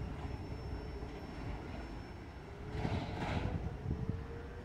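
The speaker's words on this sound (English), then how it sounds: "Short train either way." Norfolk Southern freight train 315 departing a rail terminal, a low steady rumble of railcars rolling past with faint wheel squeal and clacking joints, growing louder as cars pass nearby.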